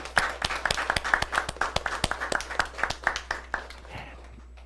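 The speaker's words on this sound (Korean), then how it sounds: "하나님 앞에 감사의 박수를 드리겠습니다" A small church congregation claps in a steady, fairly even rhythm for several seconds during a Korean worship service, moderately loud, in a room with a low background hum.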